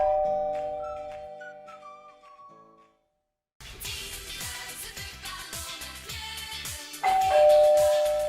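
A ding-dong chime rings out, then after a short silence busy music plays, with the doorbell tone sounding again near the end over it.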